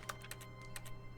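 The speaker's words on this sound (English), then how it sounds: "I'm typing." Quick, faint keyboard typing in the video game The Stanley Parable, a short burst of several light key clicks in an irregular rhythm over a low steady hum.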